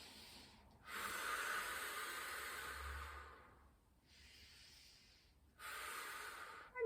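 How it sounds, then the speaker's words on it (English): Slow, audible breathing during a Pilates arm reach exercise: a long breathy inhale, a softer pause, then another airy breath. Each breath is close, quiet and hissing, with no talking. "Inhale as they come up over the chest again, and exhale to come down"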